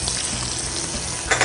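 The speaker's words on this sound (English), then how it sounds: "Nice little sizzle, that's what you're looking for." Skin-side-down meat sizzles in a very hot pan, a dense continuous frying hiss held at an even level close by, with a brief clatter near the end and no voices.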